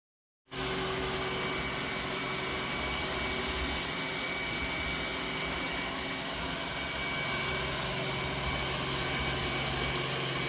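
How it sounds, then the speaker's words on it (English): An iRobot Roomba S9 robot vacuum runs alone with a steady, loud, continuous whir and broadband hum that starts abruptly and holds evenly throughout. "here it is, the Roomba S9, the most highly requested robot vacuum on my channel."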